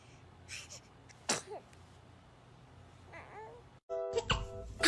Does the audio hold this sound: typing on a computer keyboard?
no